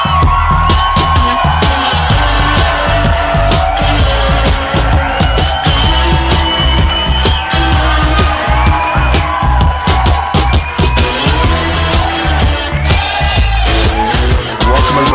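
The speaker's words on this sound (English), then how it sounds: "That was a nice applause." A studio audience at a late-night talk show claps and cheers loudly and continuously, with whoops and yells riding over dense, sustained applause throughout.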